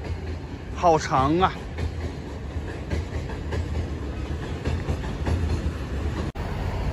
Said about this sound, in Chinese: 火车通过这个桥了，绿皮车